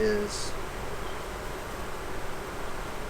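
Honey bees inside a beehive, a soft continuous buzzing hum with faint rustling, steady and close, with no talking.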